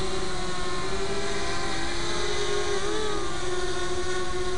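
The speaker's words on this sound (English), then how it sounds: "liftoff is okay. I'm at about a little above mid throttle." HK 250 racing quadcopter lifting off at a little above mid throttle, a loud, steady, high-pitched motor whine with a brief pitch wobble partway through, close and alone without talk.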